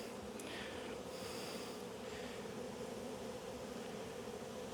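Honeybees from a strong hive buzz in a steady, dense drone during an early spring inspection, a continuous close hum with no voices over it.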